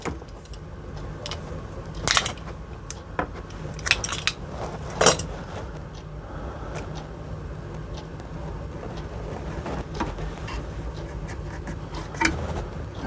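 A sharp knife with a fresh blade trims wires while a Hcalory diesel heater is being installed, giving a series of short, close scraping and cutting clicks spread unevenly over steady low background noise, with no talking.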